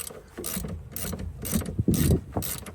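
A hand ratchet works a 14 mm rear brake caliper bolt on a 2007 Honda Accord, giving dense metallic clicking in several close bursts, louder toward the end.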